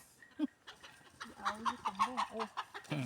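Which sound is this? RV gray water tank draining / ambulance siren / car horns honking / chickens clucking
chickens clucking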